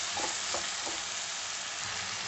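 Broad beans sautéing in hot oil give a dense, even sizzle that holds steady throughout, with faint stirring underneath and no one speaking.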